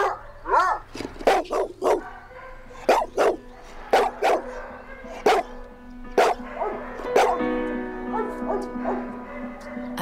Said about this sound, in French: Aboyer à gorge déployée, c'est sa façon de nous parler.